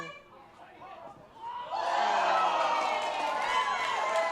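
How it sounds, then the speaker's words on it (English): Rugby league crowd at a Coffs Harbour Breakers versus Port Macquarie Magpies first grade match swelling into a loud, disapproving roar after a play, heard under a commentator's voice. "The crowd is not happy with that one."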